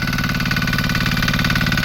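Diesel engine of a Dewer 990 Pro tractor on tag wheels, pulling a disc plough through a test field to open furrows for corn, running at a steady, close, loud rhythmic chug with no voices.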